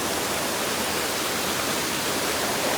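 Stream water flows near a temple with a loud, steady rushing hiss that stays even throughout, and no voices are heard.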